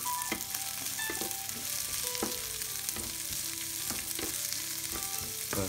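Chorizo and shrimps sizzle steadily in a pan, a constant crackling hiss broken by sharp clicks and scrapes as the food is stirred, close and fairly soft, with no talking.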